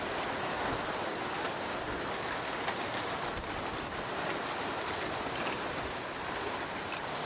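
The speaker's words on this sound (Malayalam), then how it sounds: "നല്ല കാറ്റടിക്കുന്നു ഇവിടെ." Strong wind blows across an outdoor village cooking spot where a big fish is being grilled in banana leaf, producing a continuous, even broadband rush with no breaks and no voices.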